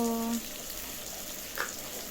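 Potatoes frying in a pan, a soft steady sizzle with faint stirring clinks, heard close and low under a brief tonal hum at the start.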